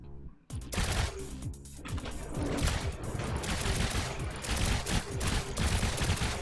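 Smart cannons in the video game Trailmakers fire at torpedoes in a rapid, dense barrage of loud booming shots that continues throughout.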